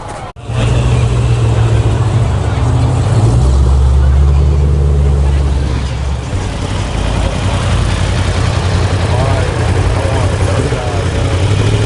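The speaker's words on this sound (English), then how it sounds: "What's up with all these Infinities pulling in?" Cars pulling in at a West Palm cars-and-coffee meet rumble loudly nearby, a heavy low engine drone that eases off midway, with people talking over it.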